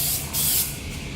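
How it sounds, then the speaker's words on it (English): Spray adhesive hisses onto the back of Pellon interfacing in a screen printing setup, a steady close aerosol burst for about a second that swells briefly louder in the middle. "I spray the back side of my Pellon"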